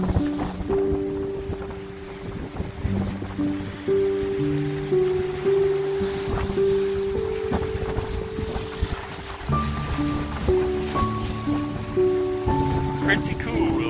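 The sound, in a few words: strong wind and choppy lake waves hitting rocks, Lake Erie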